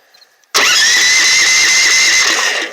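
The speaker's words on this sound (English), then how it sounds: "Got my electric start, everything." A small engine with an electric start, set on choke, catches after a brief quiet moment and runs straight away. It settles into a loud, steady, high-pitched whine that holds to the end, with no talking.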